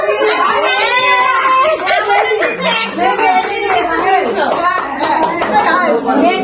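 A family claps together during an Eid celebration at home, a lively burst of hands. Children's voices and excited chatter run over and around the clapping.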